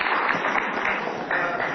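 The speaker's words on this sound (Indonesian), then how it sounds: "Oke, kita kasih tepuk tangan untuk gerakan lawan Ahok." Studio audience applause on an Indonesian TV talk show, a dense, even clatter of many hands clapping at moderate loudness throughout the short stretch.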